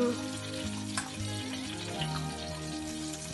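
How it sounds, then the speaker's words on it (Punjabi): Butter heats in a pan for a Punjabi curry, giving a steady crackling sizzle throughout with faint clinks of stirring or utensils, no voices. "ਹੁਣ ਇਹਦੇ ਵਿੱਚ ਮੈਂ ਥੋੜਾ ਜਿਹਾ ਬਟਰ ਗਰਮ ਕੀਤਾ ਹੈ"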